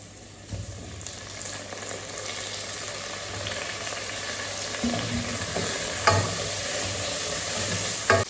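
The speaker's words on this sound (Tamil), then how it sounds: "பாருங்க, பிரியாணிக்கு தக்காளி போட்டு வெந்துட்டுருக்கு." Tomatoes cooking with onions and spices in a pot for biryani, a steady bubbling sizzle with a low hum beneath and a few sharper stirring knocks, close and even.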